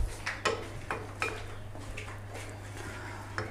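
A spoon stirs spices and water together in a cooking pot, with a series of sharp metallic clinks against the pot at an irregular rhythm over a low steady hum, with no talking.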